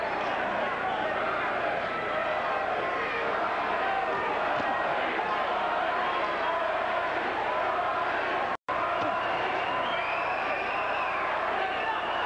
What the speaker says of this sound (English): Much of the crowd chanting Ruiz, Ruiz, Ruiz